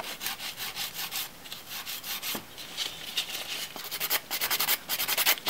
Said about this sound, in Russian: Дорабатываю пилочкой.